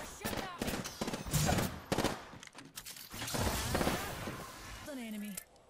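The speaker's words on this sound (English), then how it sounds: "They're shooting at me." Gunfire in a shooter video game, with rapid automatic bursts and single shots coming in clusters throughout at moderate loudness, and a voice heard briefly near the end.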